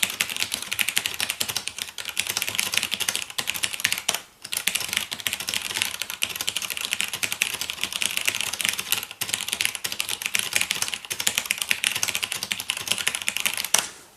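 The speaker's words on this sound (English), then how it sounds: "So let's try typing the usual things." Rapid, steady clicking of keys on the small keyboard of a Psion MC400 handheld computer, close and continuous with a couple of brief pauses, no voices.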